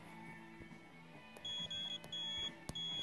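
Sharp electronic beeps from an electrical tester sound in short bursts, a few in a row, close and fairly quiet, over a low background hum, while testing a Yamaha Raptor 660 ATV stator.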